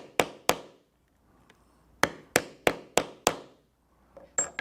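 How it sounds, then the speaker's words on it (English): A rivet setter is struck with a hammer to set rivets in a leather shot shell bag, giving sharp close blows in two groups, two and then five in quick even rhythm, followed by a few softer taps. "with the rivet setter, we will set the rivets."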